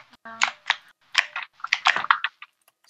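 Someone types on a computer keyboard in a Minecraft SMP session, keys clacking close up in quick, irregular bursts with short pauses between clusters of strokes.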